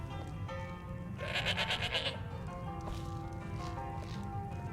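A goat in the video game Skyrim gives one rapid, wavering bleat lasting about a second, over a steady low game ambience with faint footsteps.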